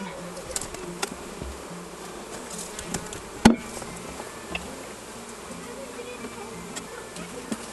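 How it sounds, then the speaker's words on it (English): Faint, continuous buzzing of honey bees around a hive, with a few scattered knocks and one sharp tap midway. "for these bees to fly into the other hive"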